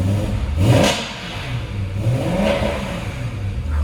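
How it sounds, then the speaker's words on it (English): A BMW M3 Lime Rock Park Edition engine revs up sharply, then settles into a steady mid-pitched drone before swelling again in a second rev, close and loud. "These things just sound"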